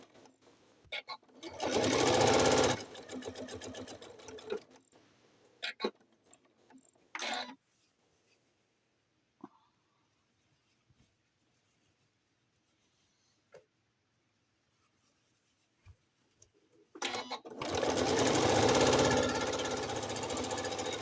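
A home sewing machine stitches a quilted fabric bowl cozy in two loud, steady bursts of rapid mechanical chatter at the start and end, separated by a long quiet stretch with faint handling clicks.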